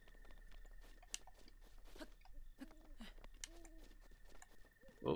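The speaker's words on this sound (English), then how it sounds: "I hear an owl." Owl hooting in a video game, heard as a few faint, low, separated hoots over quiet game ambience with scattered soft clicks and a steady faint tone, no one talking.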